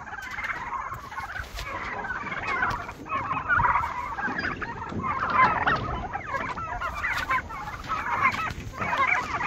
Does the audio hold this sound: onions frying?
no